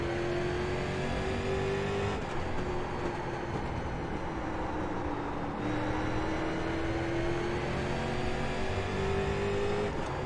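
Street stock race car engine droning at steady high revs during an iRacing oval race at Lanier National Speedway, a continuous close engine note with slight pitch shifts and no talking.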